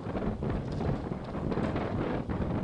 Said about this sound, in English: Pretty windy up there.